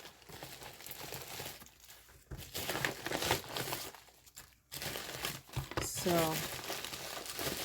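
Crinkling plastic and packaging rustle close by as craft supplies are pulled out of a cut-open package, in uneven bursts with brief pauses, while a person speaks briefly.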